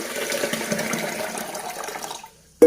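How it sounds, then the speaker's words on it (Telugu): Water is poured into a bowl of soaking grains in a home kitchen, a loud, close, continuous gush that runs steadily for about two seconds before cutting off. "ఇప్పుడు వాటర్ పోసి"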